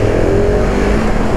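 A KTM SMC R 690 motorcycle engine drones loudly, held at high revs the whole time, a sustained mechanical howl with no break and no voices.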